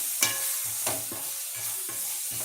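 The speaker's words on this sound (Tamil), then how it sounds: "மசாலா வாசனை போகிற அளவுக்கு நல்லா வதக்கிக்கோங்க" Masala for white chickpea kurma sautéing in a pan, a steady soft sizzle broken by a few scraping stirs at a close, even level with no voices.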